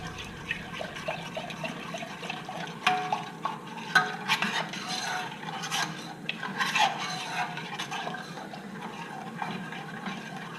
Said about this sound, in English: stir it constantly, the high heat doesn't matter